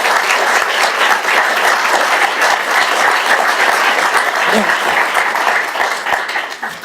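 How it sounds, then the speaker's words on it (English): A sustained round of applause fills a council chamber in Basingstoke, many hands clapping in a loud, dense, continuous roar that tapers slightly at the end. "So if you can give a round of applause to them for that as well"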